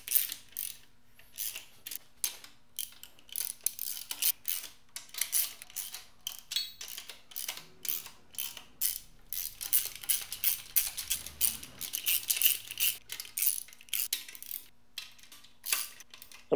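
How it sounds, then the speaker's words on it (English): Main bearing cap girdle bolts on a Mitsubishi 4G63T turbo engine block being tightened and torqued, giving a long run of close, fast metallic ratchet clicks in bursts with short pauses, no talking. "I'm going to put down the main bearing cap girdle. I'm going to tighten it down and then torque it down to the proper spec."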